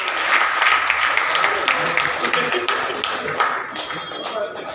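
Clapping from a crowd at a BJP district meeting, uneven bursts of hand claps that swell and fade, with voices mixed in underneath and the clapping thinning toward the end.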